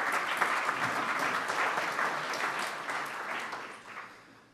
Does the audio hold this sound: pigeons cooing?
no